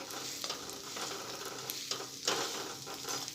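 Dates roasting and starting to melt in a pan over a medium gas flame give a steady, close frying sizzle with soft stirring scrapes and no talking.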